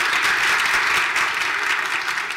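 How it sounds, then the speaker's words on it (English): A room full of people at a staff meeting gives a steady round of applause for a department, dense and continuous clapping that holds at the same level throughout with no voices over it. "big round of applause to that department."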